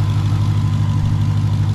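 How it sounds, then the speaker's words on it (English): A Jeep Grand Cherokee Trackhawk with a brand-new engine runs at a loud, steady idle, a deep continuous drone with a slight lift near the middle and no one talking. "Yeah, just give it a little rev."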